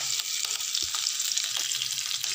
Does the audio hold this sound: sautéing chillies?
yes